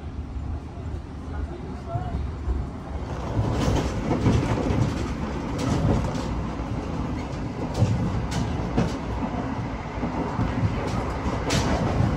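A Taksaka executive train rumbles steadily along the tracks past Cikaum station with rhythmic clacking of the wheels, heard from inside a carriage, with voices talking over it.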